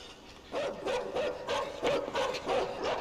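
A small dog barks repeatedly in the video game Inside, a rhythmic series of sharp, fairly close yaps with no speech over it.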